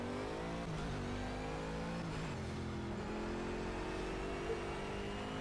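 Bentley Continental GT3 race car engine in Project CARS at Silverstone, a faint, sustained revving drone rising and falling through gear changes, heard alone without talk.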